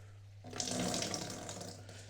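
Water starts flowing inside a Samsung washing machine showing an LC1 error, a sudden rush that continues as a steady close splashing stream after a quiet start.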